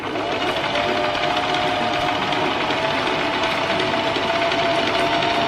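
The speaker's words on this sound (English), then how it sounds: "let's start sewing this bad boy" A sewing machine stitching fabric for a DIY crop top, a loud continuous close whirring run that holds steady for the whole stretch without pause.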